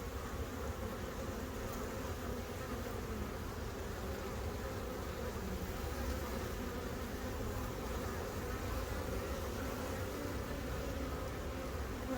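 Honeybees around a backyard hive in autumn, a dense continuous buzzing drone close by with no pauses and no talking.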